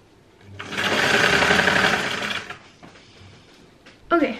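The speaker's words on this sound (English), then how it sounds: "I'm just going to fold the edges inwards and sew it closed." A sewing machine stitches fabric for a simple skirt in one steady run of about two seconds, a loud, close, rapid whirring that slows and stops before a person starts to speak.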